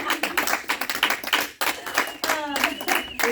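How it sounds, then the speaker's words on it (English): A small group at a parent training session claps, a clustered run of sharp hand claps with brief gaps, with voices and some laughter or exclamations mixed in close by. "Can we just slow clap for her?"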